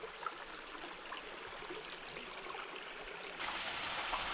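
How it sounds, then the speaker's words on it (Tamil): Water falling over a slippery rock on the Sathuragiri hills, a steady broadband rush like a stream or small waterfall, moderately distant and even, growing slightly louder near the end, with no voices. "வழுக்குப்பாறையில் பாறையில் விழுகக்கூடிய தண்ணீர்"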